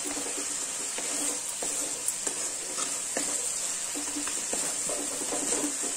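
Masala roasting in oil in a pan for a garam masala vegetable curry, giving a steady close sizzle with a spoon scraping and stirring in occasional soft clicks, no voices.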